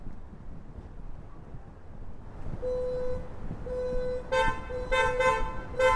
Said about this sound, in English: Sounds like someone's car alarm came off.